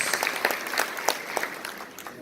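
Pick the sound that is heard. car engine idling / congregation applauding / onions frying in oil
congregation applauding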